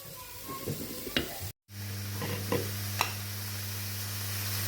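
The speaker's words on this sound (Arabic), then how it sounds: "كيما هاك خليه قاع تقلى كاع يتدبل الطوماطيس" Tomatoes frying in a pan for a fish dish, a steady sizzle with occasional stirring clicks over a constant low hum, no speech.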